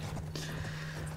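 Horse hooves clip-clopping in the World War I shooter game Battlefield 1, a steady close rhythm of hoofbeats over a constant low hum of game noise.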